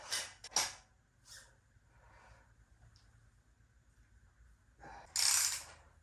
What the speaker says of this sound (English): I'm gonna screw this in.